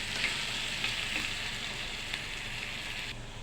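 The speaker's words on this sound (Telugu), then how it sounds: "ఇందులో నేను తాలింపులు అన్నీ వేస్తాను." Cumin, mustard seeds, curry leaves, onions and green chilies sizzling in hot oil as a tempering, a steady close frying hiss that holds evenly throughout and softens slightly at the end.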